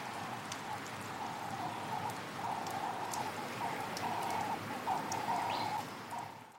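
Rain falling in a steady, faint patter, with birds chirping and calling softly in the background.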